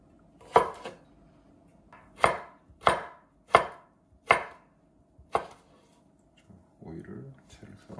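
A knife chops bell pepper into quarters on a cutting board. Six crisp, separate thuds land at an uneven pace, followed by a softer rustle. A voice speaks between the cuts.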